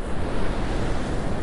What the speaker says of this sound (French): le vent se met à souffler très fort